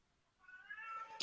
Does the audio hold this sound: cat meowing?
yes